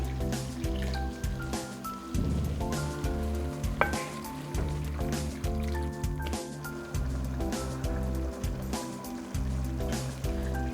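A cup of water goes into a pot of chicken curry with potatoes and green chilies, giving wet squishing, splashing and stirring clatter in irregular bursts at close range.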